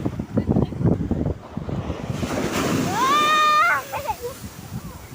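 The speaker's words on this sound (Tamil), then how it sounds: "அலை கிட்ட வந்துட்டு இருந்துச்சு." Sea surf rolling onto a beach in the morning, a steady broadband wash with wind noise across the microphone and a few voices in the background, plus a brief whistling tone midway.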